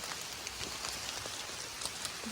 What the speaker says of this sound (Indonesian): Pertama kali hujan-hujanan